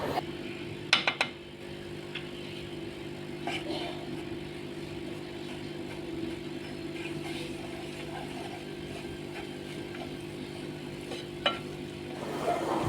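Gram flour being stirred and roasted in ghee in a pan: a steady low sizzle runs throughout, with a few sharp spoon scrapes and clinks against the metal, loudest near the start and again toward the end.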